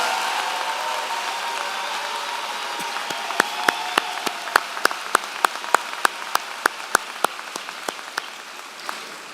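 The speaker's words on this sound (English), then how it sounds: "please stand for one last round of applause from your FAU fans" Applause rises from the crowd for student athletes at a Florida Atlantic University spring commencement ceremony, a broad wash of clapping that thins into a string of evenly spaced, sharp individual claps.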